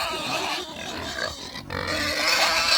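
Pigs grunting and snorting close by outdoors, a steady, noisy jumble of calls with no clear pause throughout.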